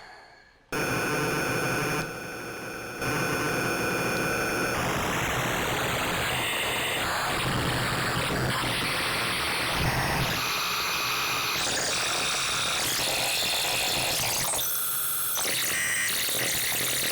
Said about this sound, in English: Crazy glitch synth.